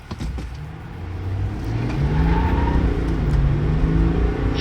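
A 2025 Chevy Silverado with the 3.0L LZ0 Duramax diesel accelerates hard from a stop, its engine note rising in pitch through successive gear changes, heard from inside the cab.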